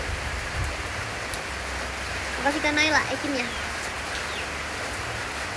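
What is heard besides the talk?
rain falling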